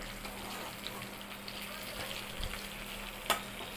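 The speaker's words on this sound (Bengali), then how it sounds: "তো একটু ভাজা হয়ে গেলে সাদা জিরেটা" Steady soft sizzle of cumin seeds frying in hot oil, continuous and fairly quiet, with a brief sharper crackle near the end.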